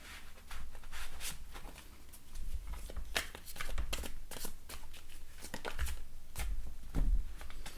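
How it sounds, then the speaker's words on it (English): Playing cards are shuffled just out of view, a run of quick crisp riffles and snaps repeating in bursts, close and fairly loud, with no talking. "Normally I shuffle in front of the camera so you can see me shuffling"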